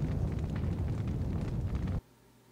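A heavy cannon blast in the video game Valkyria Revolution, a dense low rumbling roar sustained for two seconds before cutting off abruptly to near silence.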